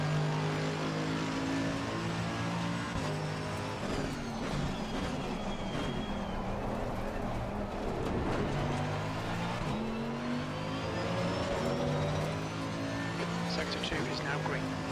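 Race car engine in a racing video game at Spa, a steady droning whine holding through the clip with shifting pitch as it revs and shifts, with voices talking over it.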